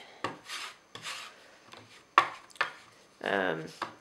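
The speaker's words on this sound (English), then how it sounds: "So you just stir it with, you know, a wooden stir stick" A wooden stir stick scrapes and rubs through gesso mixed with powder on a board, making short gritty strokes with pauses between them, close and fairly quiet.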